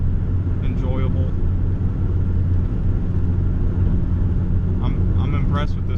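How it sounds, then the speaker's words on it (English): Inside a 1990 Honda Civic with a D-series engine and a new muffler, a steady low engine drone fills the cabin throughout, with faint voices and higher sounds briefly over it. "when you're driving it, most of the time what you hear is the engine"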